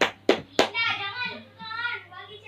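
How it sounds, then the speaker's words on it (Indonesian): Three sharp hand claps close by in a classroom after a quiz winner is announced, followed by children's voices chattering. "Harus tepuk tangan."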